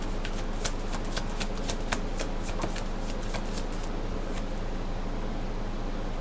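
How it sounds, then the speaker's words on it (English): Tarot cards are shuffled in a quick series of crisp riffling slaps and flutters over a low background hum, fairly close and with no speech. "just keeps throwing all the cards"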